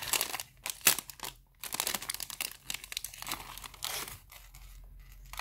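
Paper crinkles, crunches and tears in bursts as a handmade happy-mail paper package is opened at close range, with brief pauses between rustles.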